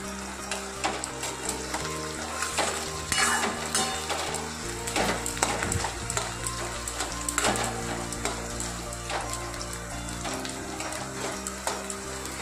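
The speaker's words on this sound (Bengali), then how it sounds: "পেঁয়াজগুলো একটু মুচমুচে ভাজা হবে" Sliced onions frying in hot oil with a pinch of salt in a pan while a Bengali dish of pumpkin greens is prepared, giving a steady close sizzle with occasional stirring scrapes and clatter.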